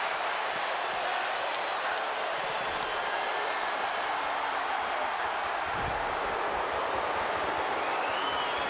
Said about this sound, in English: the crowd begins to chant tag team wrestling